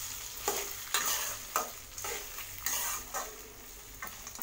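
Cooked rice is stirred and tossed in an oily pan for lemon rice, with rhythmic scraping strokes about once a second over a light frying sizzle, close and clear, no speech.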